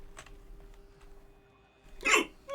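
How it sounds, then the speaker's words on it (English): A single loud hiccup erupts near the end, after a quiet stretch holding a few faint clicks, and a second burst begins as the clip cuts off. "Oh, excuse me. Hiccups."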